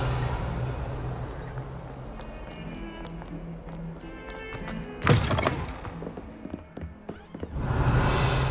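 Revealing spell cast in Hogwarts Legacy on PS5, a sudden shimmering magical burst that flares sharply midway through a quiet stretch, with scattered soft thuds and clicks before and after.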